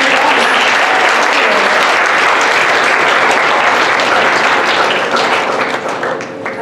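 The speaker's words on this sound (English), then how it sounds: "let's give him one more big round of applause" A school audience applauds loudly for a presenter, a dense, steady wash of clapping hands that fills the whole stretch and thins slightly toward the end.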